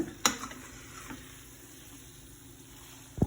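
Chilli garlic shrimp noodles sizzle softly in a pan while being stirred, with a couple of sharp scraping knocks from the utensil over a low, steady frying hiss.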